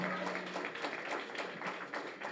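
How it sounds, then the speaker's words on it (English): Graduates at a spring nursing graduation ceremony clap for themselves, a faint, distant patter of many hands with scattered sharper claps running steadily throughout. "I think you should stand up and clap for yourself."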